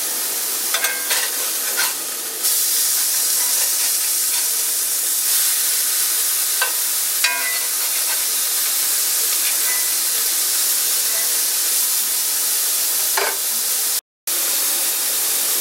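Bean burger patties sizzling steadily in a cast iron pan, a constant close frying hiss with scattered crackles and a few clinks of a spatula, running alone without talk.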